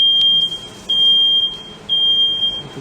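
A household smoke alarm sounds a loud, piercing high-pitched beep in long repeated tones with brief gaps between them, alone with no talking.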